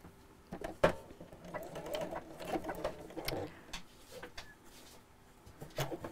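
A sewing machine stitches through the pocket of a rope-handle bag, heard as faint, irregular mechanical tapping and short bursts in a quiet room.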